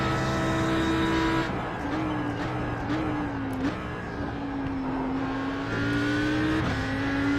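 An Audi R8 GT3 race car engine at Bathurst in a driving game holds a loud, steady high-revving drone, its pitch stepping up and down through gear changes, with no voices.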